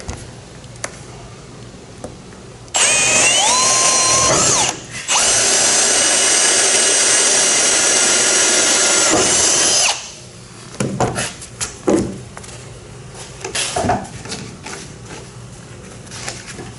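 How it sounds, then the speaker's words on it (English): A power drill bores holes into the deck of a gooseneck trailer, running as one sustained loud burst with a brief pause in the middle, followed by scattered knocks and handling noises. "If you go ahead and drill several holes"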